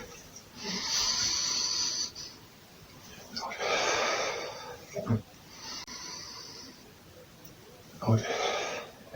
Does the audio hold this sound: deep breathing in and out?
yes